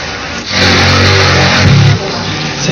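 A small motorcycle engine revs loudly and close by in a steady, strained roar, then eases off slightly as the bike pulls away.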